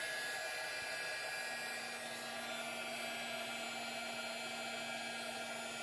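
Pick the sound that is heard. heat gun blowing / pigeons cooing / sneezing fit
heat gun blowing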